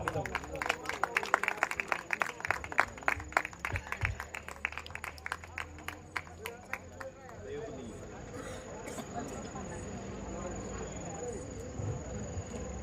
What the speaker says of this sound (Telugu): మనం అందరం చప్పట్లు కొట్టి ఆహ్వానిద్దాం